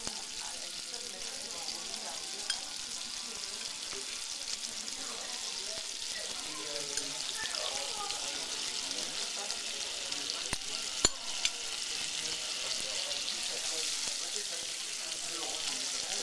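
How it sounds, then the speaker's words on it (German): Unsalted butter melts into caramelized sugar in a pan for crêpe Suzette prepared tableside in a restaurant. A soft, continuous sizzle runs throughout while voices murmur nearby. "Jetzt ist der Zucker zerlassen. Kommt die ungesalzene Butter rein."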